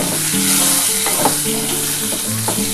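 Small kachki fish curry cooks in a frying pan as a pinch of sugar is stirred in, producing a dense close sizzle with a few sharp spatula scrapes against the pan, no talking.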